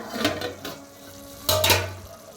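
Masala is stirred in a pot on a wood-fired chulha, with a few distinct scraping and clattering strokes of a spoon against the metal over a low background hum.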